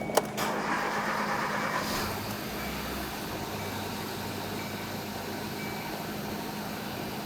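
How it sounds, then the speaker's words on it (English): A 1.6L Kia Soul engine cranks and catches right after a high pressure fuel pump replacement, then settles into a steady idle heard close up. "you're going to want to try to start the vehicle"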